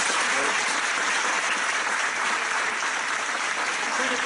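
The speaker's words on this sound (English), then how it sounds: "If we could give them a big round of applause." A crowd at an alumni showcase evening breaks into sustained, even applause, a dense wash of many hands clapping at steady volume for the whole stretch.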